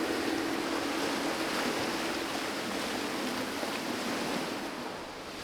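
Steady rain hissing down on a boat moving along a canal, a dense broadband wash with no breaks, faint wind and water noise underneath, and no one speaking.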